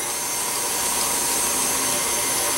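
Stand mixer with a paddle attachment mixing dinner roll dough, a steady, loud motor whir running continuously and alone without pause.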